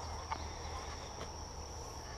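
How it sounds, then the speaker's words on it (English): A constant, even drone of honey bees in a hive hums throughout, with a couple of faint clicks and no talking. "There's a ton of bees in here."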